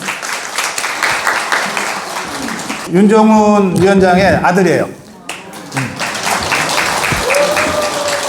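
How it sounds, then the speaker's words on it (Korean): An audience at a book concert breaks into applause to welcome a guest, steady clapping running under a man's speech through most of the span, with a louder voiced stretch in the middle. "박수로 좀 환영해 주세요."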